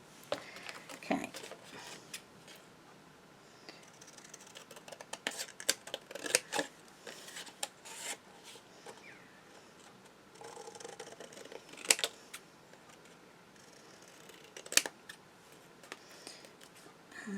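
Scissors snip paper for a handmade memory book in a quiet room, making scattered sharp, faint cuts in irregular bursts.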